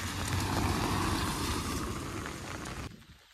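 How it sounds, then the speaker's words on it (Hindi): Steady broadband rain hiss beside a pond, fairly loud and continuous, with no voices, dropping off abruptly near the end. "अभी तो पूरा दिन बारिश हो रही है"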